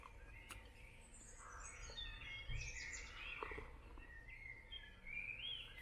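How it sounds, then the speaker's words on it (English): Birds sing in the woods at a wild campsite, several thin, high chirps and warbling phrases coming from a short distance, fairly faint over a quiet, low outdoor rumble with no talking. "you can probably pick up on that bird song"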